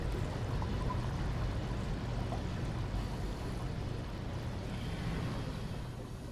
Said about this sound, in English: Filling up with water, baby!